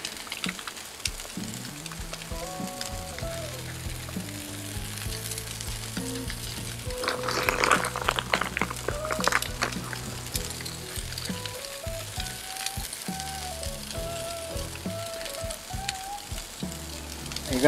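Burger patties with cheese sizzling and frying on a griddle grill, a steady close crackle with music playing over it and a busier burst of sizzle midway.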